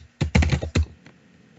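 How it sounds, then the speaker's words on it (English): A short run of computer keyboard keystrokes as a login name and password are entered, about five crisp, close clicks in quick succession, then a single fainter tap, with no talking. "you will need to enter your K3 Digital VAT login name and password as follows"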